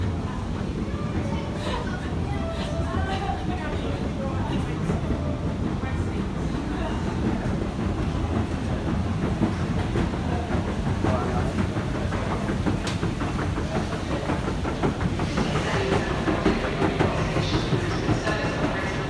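Steady, loud rumble of a London Underground train running, with rattling and clacking throughout and murmuring voices in the background.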